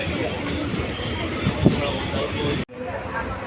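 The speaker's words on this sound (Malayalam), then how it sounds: "നമ്മുടെ ട്രെയിൻ ഇപ്പോൾ തൃശ്ശൂർ റെയിൽവേ സ്റ്റേഷനിലേക്ക് എത്തിക്കൊണ്ടിരിക്കുകയാണ്" The Ernakulam–Guruvayur Express rolls into Thrissur railway station with steady rumble and high metallic wheel squeal, ending with a brief abrupt gap.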